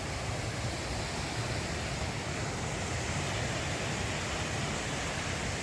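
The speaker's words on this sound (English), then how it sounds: "as you can see down there, the lovely waterfall" A waterfall seen from above on a woodland walk in the Wood of Cree, a steady dense rushing hiss of falling water, constant and unbroken with no talk.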